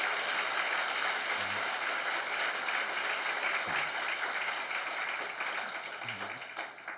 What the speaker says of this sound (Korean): 우리 하나님께 한번 영광의 박수 올려드리겠습니다.